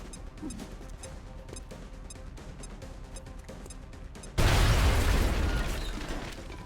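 A grenade blast in the XCOM: Enemy Within game, Long War mod, bursting into a loud, wide roar that trails off over a couple of seconds after a stretch of steady game sounds.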